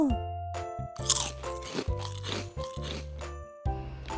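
Freshly fried, crispy durian chips being bitten and chewed up close, giving loud brittle crunches in a series of separate bites with short gaps between them.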